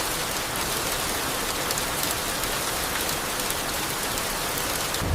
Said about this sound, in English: That rain really came out of nowhere just now.